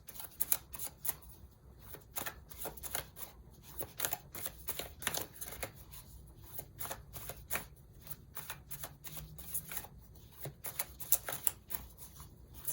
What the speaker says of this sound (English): So as I'm shuffling